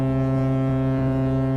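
A ship's horn sounds a single loud, sustained low blast that holds steadily and close, with faint wind noise beneath it.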